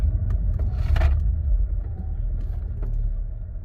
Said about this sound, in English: So you can see, abrupt stop, a little lower RPMs than just a slow stop